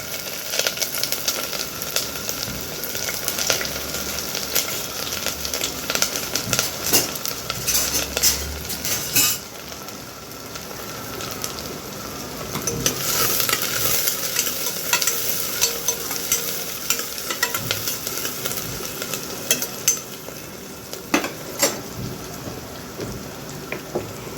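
Onions sauté in a hot pan for a village-style mutton head curry, a loud, dense sizzle like rain that runs throughout, with frequent metal spoon scrapes and clanks against the pan.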